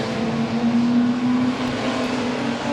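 Cooper Jaguar race cars roar around the circuit at the Goodwood Revival, a loud sustained engine drone holding a steady pitch with a slight waver, heard from trackside with no talk over it.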